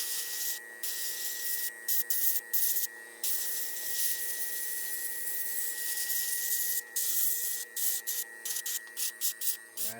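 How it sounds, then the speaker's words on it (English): An airbrush sprays a light, thin overspray of Testors opaque yellow paint onto the teeth of a mask in short, soft hissing bursts, separated by brief pauses and a steady compressor-like hum. "add a little bit of this onto the teeth, but not too much. I just want a light,"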